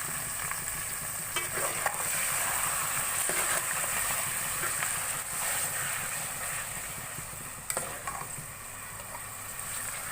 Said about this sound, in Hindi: आंच थोड़ी तेज करके इसको भून लेंगे।